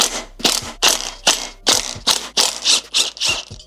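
A ratchet loosens the sprocket lock nuts on a sportbike rear wheel, with about ten quick, evenly spaced bursts of sharp clicking, close and alone.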